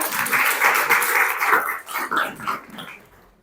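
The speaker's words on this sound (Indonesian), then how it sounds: "Beri aplaus untuk kelompok 2." A classroom audience applauds a presenting student group with a dense burst of clapping that holds steady, then thins into scattered claps and fades out.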